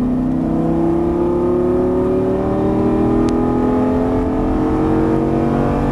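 Lamborghini engine at full throttle on a race track, a loud sustained roar climbing steadily in pitch as the car accelerates, close and continuous with no voices.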